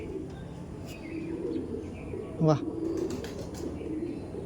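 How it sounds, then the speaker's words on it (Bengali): Giribaj pigeons coo softly amid faint chirps, with a brief wing flap or sharp call near the middle, while someone speaks an appreciative exclamation. "সব চটিয়াল পায়রা"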